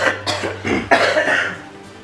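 Coughing from a person during a math lesson, several short harsh bursts in quick succession, close and fairly loud with no talk over them.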